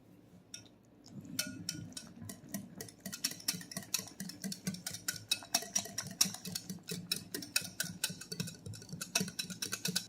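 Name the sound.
whisking cream pie filling in a bowl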